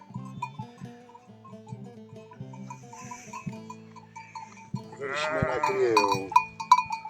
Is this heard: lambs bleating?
yes